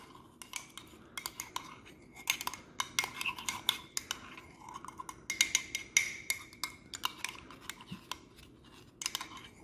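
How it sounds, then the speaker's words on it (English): A spoon stirs pea soup with croutons and clinks often against the container. The scraping and tapping come close by in uneven bursts, with no speech. "Give that a stir."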